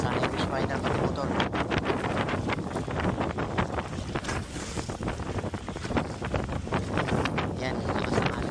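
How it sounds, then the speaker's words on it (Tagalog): Strong sea waves and wind batter a Hobie Compass kayak on open water with fish finder and motor fitted, a constant loud roar of rushing water and wind buffeting close to the microphone, with no voices. "Yan, lakas ng alon guys. Malaki oh."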